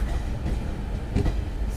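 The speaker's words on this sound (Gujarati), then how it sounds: "ગાડી આવી, ગાડી બીજી જો ટ્રેન છે સામે બીજી આ બાજુ" A train rolls past on the railway line, a dense, steady rumble with a brief rise in clatter near the end, heard from close by.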